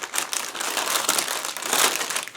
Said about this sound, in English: This is a quite big plastic bag.